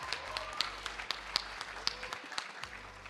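Scattered clapping from an audience at an ICT summit awards ceremony, a thin patter with distinct individual claps popping out over a low hum, briefly dropping away near the end.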